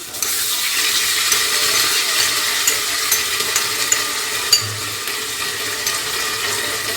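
Garlic, ginger and cumin pastes hit hot oil in a pan for a beef liver fry, producing a loud, continuous close-up sizzle with a few small crackles and no voices.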